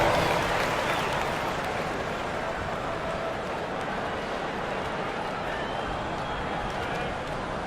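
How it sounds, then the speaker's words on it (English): A wash of crowd applause and cheering fills the arena in the basketball video game NBA 2K25, steady and broad, with a distant roar underneath and no clear individual voices. "Give yourself a round of applause."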